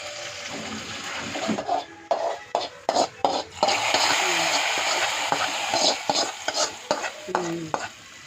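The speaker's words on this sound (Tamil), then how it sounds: "இப்போ நம்ம தாலிப்பையும் சேர்த்துக்கலாங்க" Oil sizzles steadily in a pan as spices and curry leaves are tempered, while a spoon repeatedly scrapes and stirs, with irregular clinks and bursts of crackling; no one speaks.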